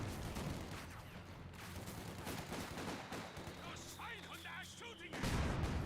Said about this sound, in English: Great mortar hit there.